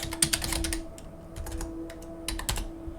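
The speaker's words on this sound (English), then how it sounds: "I'm going to type it in." Typing on a computer keyboard, quick bursts of close, crisp key clicks separated by short pauses, alone without speech beneath a faint steady hum.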